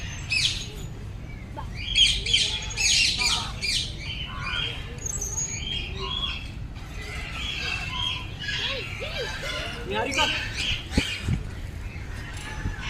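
Many birds squawking, chirping and calling at Vandalur Zoo, with bright overlapping calls and harsher squawks throughout, set against a busy outdoor murmur and faint voices of visitors.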